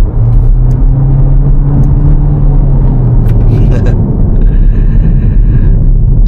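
A hybrid car accelerates with a loud, steady engine drone and a low tone that rises and then falls over several seconds, heard from inside the cabin with a few clicks and a faint chime near the end.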